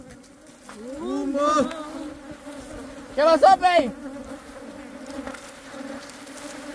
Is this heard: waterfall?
no